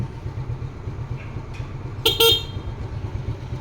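A Suzuki Smash motorcycle's stock horn gives a short, bright beep twice in quick succession over a low idling engine rumble, with a faint click shortly before.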